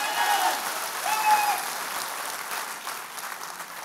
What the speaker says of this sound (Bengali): সো ওনার জন্য একটা জোরদার করতালি হওয়া উচিত না?